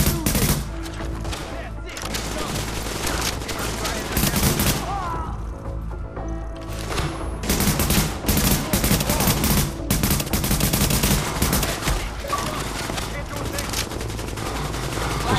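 Enemy gunfire in The Division, a loud, dense barrage of automatic rifle bursts and single shots, near and continuous, briefly dipping before resuming, with faint voices underneath.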